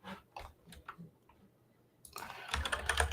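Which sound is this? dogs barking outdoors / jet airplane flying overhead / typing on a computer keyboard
typing on a computer keyboard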